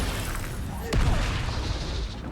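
In the Hogwarts Legacy video game, the Incendio fire spell is cast, a single sudden booming burst over steady game noise, followed by a softer rumbling tail.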